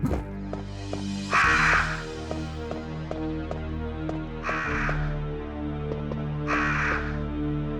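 Crows cawing in the PS3 Resident Evil game, three loud harsh caws spaced a few seconds apart over a low steady ambient drone, with no talk.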